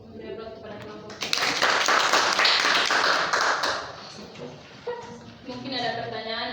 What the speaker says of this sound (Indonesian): Beri aplaus kepada kelompok 3.